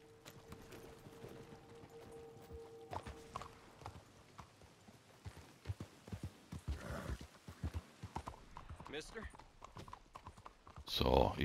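Horse hooves in Red Dead Redemption 2 Online clop in an irregular, hollow pattern, growing busier and louder toward the end, with a voice talking over parts of it.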